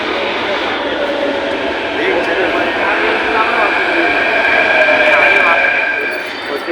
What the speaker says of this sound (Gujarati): મેટ્રો ટ્રેન આવે છે.